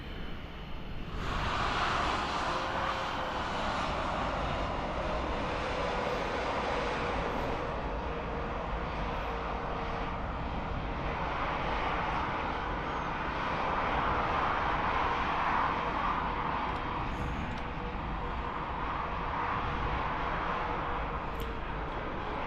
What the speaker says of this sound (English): ASL 737 finally making an appearance